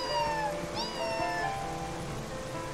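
A cat in Zelda Twilight Princess gives a couple of short, clear meows near the start, over soft background game music and rain.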